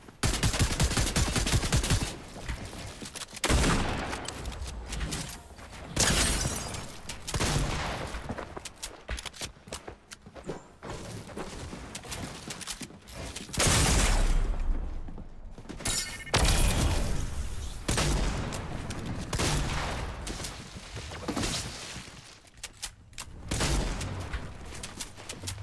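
Rapid shotgun blasts from an overpowered shotgun in a battle royale video game, loud bursts repeating in quick clusters with brief gaps, mixed with game effects and continuous background music.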